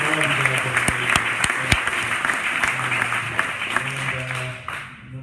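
A crowd at a startup weekend's final presentations gives the organizers sustained applause, with some sharp louder claps near the front and a few voices underneath, easing off toward the end.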